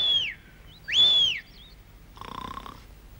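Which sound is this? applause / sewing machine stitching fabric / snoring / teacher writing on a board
snoring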